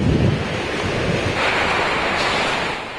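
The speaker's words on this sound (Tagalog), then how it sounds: "tumitindi na ang lakas ng hangin at buhos ng ulan" Strong storm wind roars steadily with heavy rain and surf-like rushing noise, loud and unbroken throughout, with no voices.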